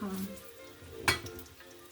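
Onions fry in a pan with a soft, close sizzle, broken partway through by one sharp scrape or stir. No one speaks.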